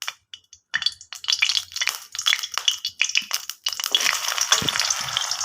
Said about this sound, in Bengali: উচ্ছেগুলো দিয়ে ভেজে নেবো।